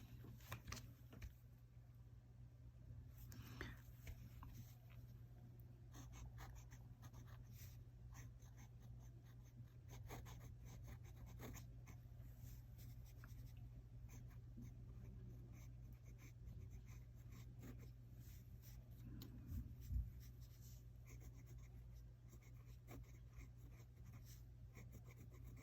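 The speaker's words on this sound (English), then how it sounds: "Let me write with it more." Nib of a Monteverde Invincia fountain pen scratching across paper as a proverb is written, making faint, close strokes in irregular bursts over a low steady hum, with no talking.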